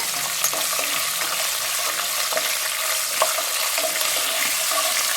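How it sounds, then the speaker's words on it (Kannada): Green chilies fry in an oil-filled pan while kharabath is being made, giving a steady, close sizzle with faint scraping stirs and small pops throughout, no voices. "ಸ್ವಲ್ಪ ಮೆಣಸಿನ್ಕಾಯಿ ಎಲ್ಲ ಫ್ರೈ ಆಗಲಿ"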